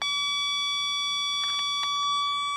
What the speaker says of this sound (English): Then I'll do the beep